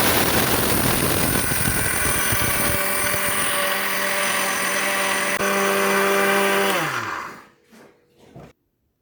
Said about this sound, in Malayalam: ചൂടാറിയതിന് ശേഷം മിക്സിയിലിട്ട് പൊടിച്ചെടുക്കാം.